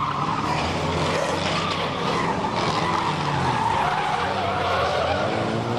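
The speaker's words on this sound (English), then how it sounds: "He's just been spun by Elgin 459, but Spencer's in reverse" Race cars on a short oval at a raceway meeting, one spun out in traffic, with continuous loud engine roar and sustained tyre skidding and squealing throughout.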